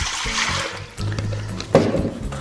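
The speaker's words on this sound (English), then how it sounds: "put your water in first" Water is poured into a mixing bowl in a bakery to start a bloomer bread dough. A steady splashing pour runs close and clear, with a brief louder slosh partway through.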